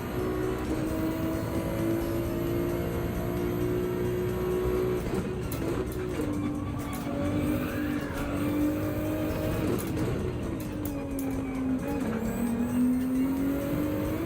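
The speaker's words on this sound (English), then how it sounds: "This is maximum pace with this Ferrari right now for me." A Ferrari Group 3 race car in a racing video game at Brands Hatch drones at a steady high pitch, shifting up and down through gears, with occasional tyre noise and no talking.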